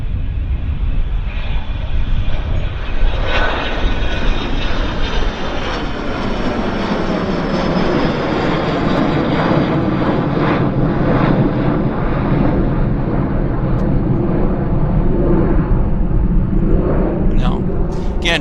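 A small aircraft at Vancouver Airport gives a steady, droning engine roar that holds strong and close throughout, swelling and easing slightly as it moves, while someone talks over it.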